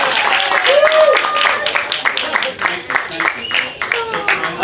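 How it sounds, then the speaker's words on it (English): Scattered clapping from a small open-mic audience at a gallery venue, moderately close and uneven, with voices and crowd chatter running through it. "Clap it up"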